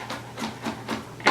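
A knife chopping food on a cutting board, four or five even, soft thumps in a quick rhythm, ending on a slightly sharper knock, close and quiet.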